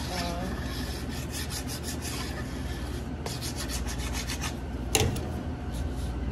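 A scraper drags steadily over a cake board to clear excess icing, producing a continuous close rubbing and scraping with brief bursts of sharper strokes and one louder scrape near the end.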